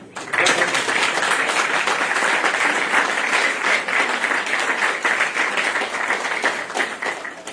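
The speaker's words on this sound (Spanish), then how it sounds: "lo vamos a recibir con un fuerte aplauso" A large crowd applauds loudly and steadily, sustained clapping that fades slightly at the end.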